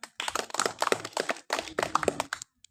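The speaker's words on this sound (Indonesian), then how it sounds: "Oke, baik, tepuk tangan." A class of students claps along in a rhythmic group clap, two bursts of quick patterned claps separated by a short pause, fairly close with a few sharp taps standing out.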